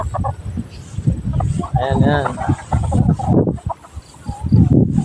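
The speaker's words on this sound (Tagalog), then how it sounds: "Ayan mga manok natin." Backyard chickens cluck and squawk at close range, short repeated calls mixed with a rooster-like cry, while someone talks over them outdoors.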